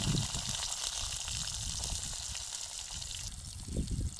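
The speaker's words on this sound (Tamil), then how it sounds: "சீரகத்தை போட்டுக்கிடலாம் வெங்காயத்தை போட்டுக்கிடலாம்" Cumin seeds and chopped onion frying in hot oil in a village-style kitchen, giving a steady, close sizzle with crackling that holds throughout, with no talk.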